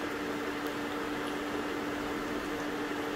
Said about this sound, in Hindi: फिर 5 से 6 मिनट होने तक फ्राई करेंगे।